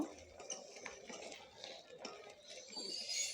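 Utensil scraping and clinking in a pan as shrimp curry with coriander leaves is stirred, a steady run of soft metallic scrapes and taps at close range, with no talk.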